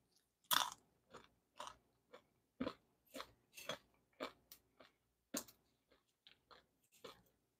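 Close, loud crunching of crispy fried corn tortilla strips being chewed, a dozen or so sharp crackling bites in an irregular rhythm with short pauses, no talking.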